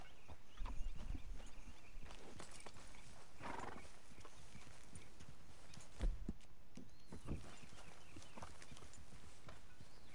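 Horse hooves clip-clopping at a steady walk in Red Dead Redemption 2, with a couple of louder thuds and a brief whinny partway through, under light game ambience.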